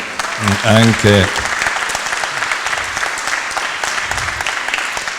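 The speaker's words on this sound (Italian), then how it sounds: "vi chiedo di fare un applauso" Audience applause at the Paolo Rizzi prize ceremony, a steady crowd clapping that carries on throughout, with a voice speaking over the opening second.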